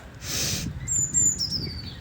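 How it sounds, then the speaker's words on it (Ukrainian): Birds chirp and tweet outdoors, with a high thin whistled call and brief chirps over low background rumble. "Пташки цвірінчать."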